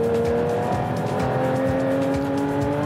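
A 2022 Porsche 911 GT3 driven hard around Circuit Mont-Tremblant, its engine singing at a loud, steady high pitch that climbs gradually, with rapid pulsing throughout.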